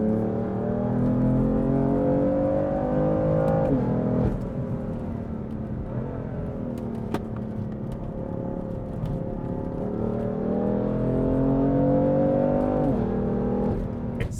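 A BMW F80 M3 engine revs steadily, its pitch climbing and then dropping sharply at each slightly rough gear change, loud and close with no voices.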